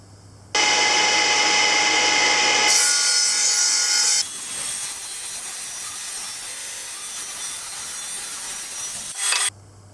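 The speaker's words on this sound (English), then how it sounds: "Here's the choice pieces of oak cleaned up with a sander after sawing so that you get a nice tight fit." Oak pieces being cleaned up with a power sander after sawing, a loud continuous broadband rasp that shifts in tone partway through and runs steadily for several seconds before cutting off.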